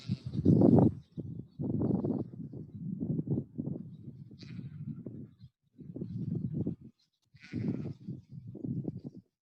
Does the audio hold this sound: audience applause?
no